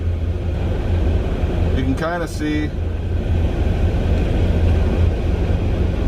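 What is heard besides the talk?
strong wind dust storm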